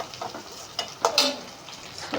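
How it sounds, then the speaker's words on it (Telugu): Sliced onion and okra sizzle lightly in a pan for a bendakaya masala curry, a soft hiss broken by a few quick stirring scrapes and clinks. "సో ఇలా లైట్గా ఫ్రై చేసుకోవాలండి"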